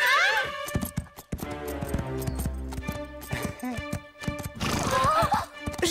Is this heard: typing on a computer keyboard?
no